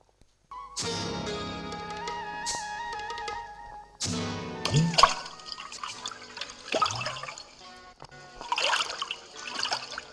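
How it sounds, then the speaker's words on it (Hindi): Water pours and trickles into a kamandal pot beside a river in a staged Ramlila scene, gurgling, dripping bursts that start, pause and return, set against a sustained musical backdrop. "पानी का कमंडल भर और अपने माता पिता की प्यास बुझा"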